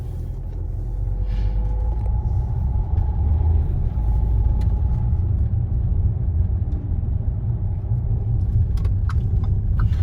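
Car creeping as slowly as possible through a narrow street in Bobigny on a driving-test route, slowing for a turn, with a steady low engine rumble and road noise heard from inside the cabin.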